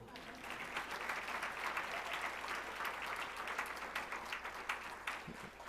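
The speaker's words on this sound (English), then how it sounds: "Give a clap to that." Audience applause at a community breakfast, a sustained wash of many hands clapping at moderate distance, fairly soft and even throughout.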